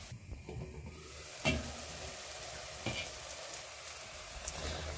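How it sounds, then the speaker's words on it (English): Curry, thyme, coriander, white pepper and salt fry in a pan, giving a soft steady sizzle with a few sharp knocks as they are stirred. "I'm just going to stir this up and allow it to fry for a little bit."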